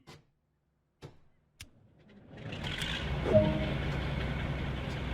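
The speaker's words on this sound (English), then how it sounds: "Start with the first engine." A diesel locomotive in a West Somerset Railway train simulator cranks its first engine: a few sharp clicks, then a rising start that settles into a steady, loud idle rumble.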